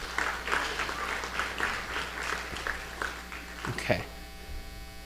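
A live audience applauds at a family day gathering as a participant is called up, a steady wash of clapping over a constant electrical hum, with a few voices and a short louder burst near the end.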